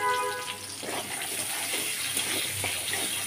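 Chopped onion hits hot oil in a wok after whole cumin and sizzles at once into a steady, close hiss that holds at an even level, with no talking over it.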